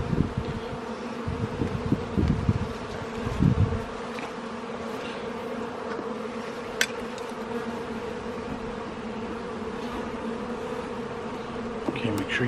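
Agitated honey bees buzz around an open hive during an inspection, making a dense, continuous drone close by, with a few low thumps and handling knocks early on and no talking.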